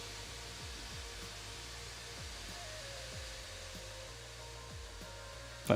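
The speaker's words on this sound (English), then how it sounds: "my microphone's picking up the fan noise here" Cooling fans of a Ryzen HP Omen 15 gaming laptop give a steady, airy whir that holds an even level, with a brief louder knock right at the end.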